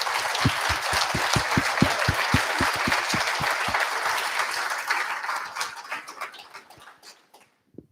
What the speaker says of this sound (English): a round of applause for all the young people in Hounslow